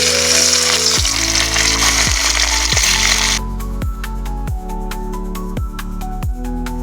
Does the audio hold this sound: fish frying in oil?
yes